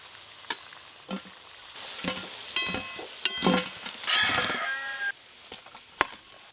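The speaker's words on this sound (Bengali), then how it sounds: "এই আলুগুলো সব একবারেই ভেজে নেব" Potatoes frying in hot oil for chicken dum biryani, a steady sizzle broken by sharp stirring and scraping clatters in the pan, close and fairly loud, with no talking.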